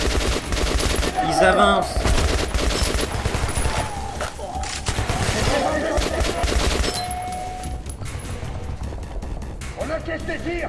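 Dense bursts of automatic gunfire and shots fill a firefight in the shooter game Metro Last Light, loud and near, mixed with game effects while someone speaks briefly over the action.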